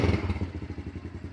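A 2021 Honda CRF110 110cc kids' dirt bike engine catching on the electric start: a short, close burst of low, pulsing engine chug and clatter that settles into a rough, throbbing idle.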